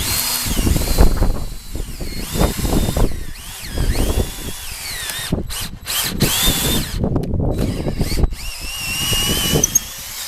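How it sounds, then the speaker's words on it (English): Power drill boring holes for plates on a wooden Edwardian-style garage door, a loud, close, sustained whine with bit grinding through wood, briefly stopping and restarting several times. "Now that my holes are drilled, I can get my plates on."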